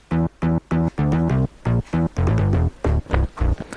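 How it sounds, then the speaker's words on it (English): A Waldorf M24 synthesizer bass track built from the LP24 sample plays punchy, rhythmic low notes in short repeated bursts and a few longer held tones, loud and close with no voices. "And the bass track sounds like this."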